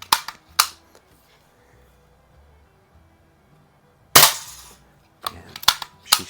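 Daisy 102 Model 36 BB gun firing, sharp loud cracks: two close shots at the start, then after a quiet pause one more and a quick cluster of several near the end.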